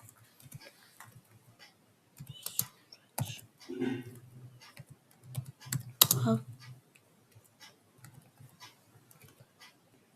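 Typing on a computer keyboard, bursts of quick, soft key clicks in short irregular runs, close and fairly quiet.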